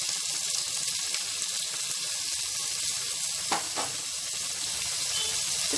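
Green chilli and onion pieces sizzle steadily in hot oil for a mutton curry, a continuous close frying hiss with a couple of brief stirring scrapes partway through and no talking.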